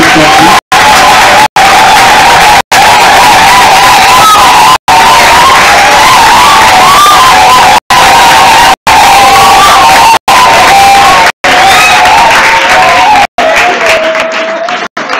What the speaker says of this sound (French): Applaudissons encore le Seigneur.